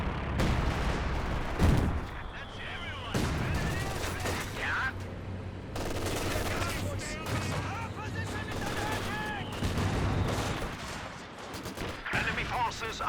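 Gunfire crackles in the Company of Heroes 2 video game, with several sharp shots and bursts scattered through a dense battle soundscape, mixed with other effects and intermittent voices.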